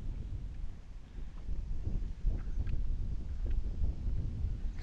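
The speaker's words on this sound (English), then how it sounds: "Wind's blowing a little bit" Wind gusting over a lake while fishing from a boat, a steady low rumble of wind buffeting the microphone with no one talking.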